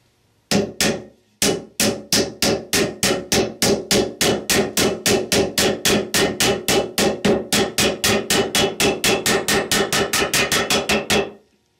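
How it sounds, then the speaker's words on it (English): A hammer strikes in a long run of evenly spaced, sharp metallic taps, about four per second, steady and close, with no talking, driving a seal into a Chrysler 46RE transmission. "Use light blows to evenly drive the seal completely in."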